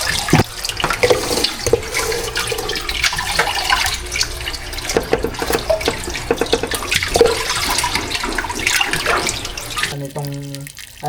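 Tap water running into a pot of ube being readied for boiling, a loud continuous splashing flow with clanks and handling noises, close by, ending abruptly.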